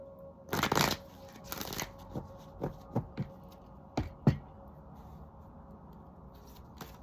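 A color language oracle card deck is shuffled by hand, two quick riffling bursts followed by a series of soft, evenly spaced taps and slaps as cards settle, close and fairly quiet over a low room hum.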